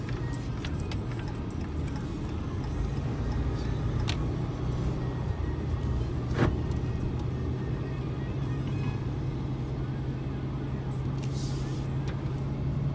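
A Ram 3500 pickup truck engine runs warm with a full tank, a steady low diesel-like rumble and idle hum with occasional faint clicks, recorded close and continuous.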